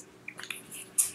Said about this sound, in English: And if you can hear Max, he's chewing on a bone right beside the microphone